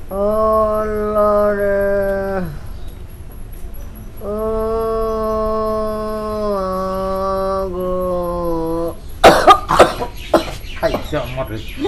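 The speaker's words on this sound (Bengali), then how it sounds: "মুখের সামনে কাশিটা মাইরা দিলা" A person in a rural Bangla drama lets out several harsh, close coughs near the end, following long drawn-out vocal tones.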